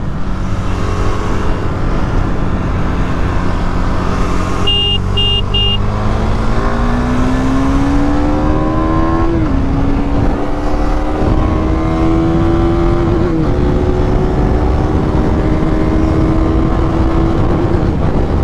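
A Duke 390 and a GT 650 motorcycle in a drag race: loud, close engine roar climbing steadily in pitch through gear changes, with brief dips at each shift, heard alone.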